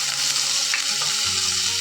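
Spices and ginger paste sizzle steadily in hot oil in a karai while mutton kosha cooks, a close, continuous frying hiss with faint stirring scrapes and no talk.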